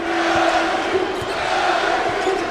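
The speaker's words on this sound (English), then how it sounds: "Skylar Mays sparking this Tiger crowd" An LSU Tigers home crowd roars steadily through a men's college basketball game against UL Lafayette, a dense, sustained arena cheer with faint ball bounces underneath.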